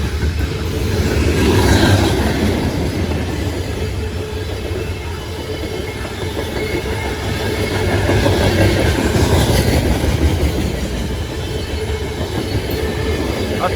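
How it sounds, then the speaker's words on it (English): A heavy coal train rolls past close by on rails, with a steady loud rumble of wagons and wheel clatter that swells and eases over several seconds, and no voices are heard. "This train is heavy."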